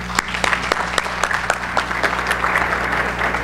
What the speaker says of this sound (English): one more round of applause for Sharona.